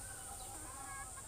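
Backyard chickens clucking at a rural Bangladeshi home, a soft, low-level mix of fowl calls spread evenly across a short stretch with no talk.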